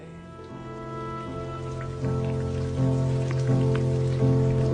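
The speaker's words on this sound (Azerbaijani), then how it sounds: "indi sadəcə yağışın yağmasını izləyək" Steady rain falling on a surface, a continuous patter of drops that grows slightly louder partway through, with soft music underneath and no talking.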